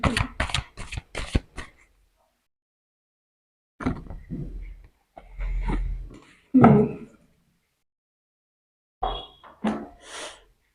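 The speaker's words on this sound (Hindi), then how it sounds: "एक कार्ड और निकालते हैं।" Tarot cards shuffled and drawn by hand, a quick burst of riffling snaps followed by separate short shuffles and card slides, close and crisp with quiet gaps between.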